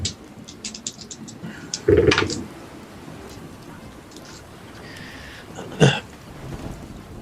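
Thunderstorm effect at sea with steady rain hiss, broken by two sharp crackling thunder cracks, one early and one near the end, amid faint scattered ticks.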